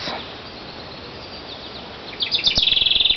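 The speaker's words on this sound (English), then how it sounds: "this morning I was watching the robins. There's one over there." Robins chirping in a garden while building nests, a faint background hum at first, then a brief run of bright, rapid chirps rising near the end, fairly close.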